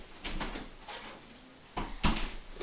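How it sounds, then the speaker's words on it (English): A door swings and shuts indoors, a few soft bumps and then a firmer thud near the end, close by. "just close the door"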